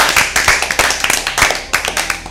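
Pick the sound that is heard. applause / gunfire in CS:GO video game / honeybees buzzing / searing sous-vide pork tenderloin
applause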